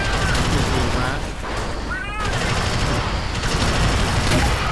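Continuous gunfire in the alien-shooting game Alien Swarm, a loud unbroken barrage of rapid shots with a brief dip midway, while players' voices talk over the din.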